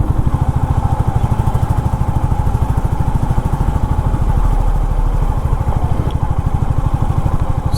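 A motorcycle cruises along a highway from Delhi toward Manali, its engine thumping in a fast, steady pulse close by, loud and continuous, with wind rush underneath and no voices.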